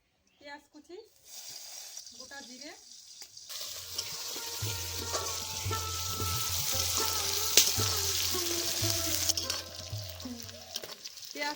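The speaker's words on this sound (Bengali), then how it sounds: "পেঁয়াজটা হালকা ভাজা হয়ে গেছে" Onions sizzle and crackle steadily in a hot pan, with occasional stirring scrapes; the sizzle builds after a few quiet clinks at the start.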